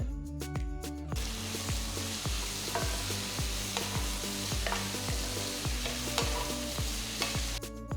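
Onions, garlic, ginger and chopped green chillies sizzle steadily in a hot pan while a utensil scrapes and stirs in a regular rhythm, close and clear with no talking.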